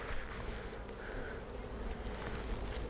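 A crowd of honey bees drones at an open hive during a fall honey harvest, a dense, steady buzz close by with no voices.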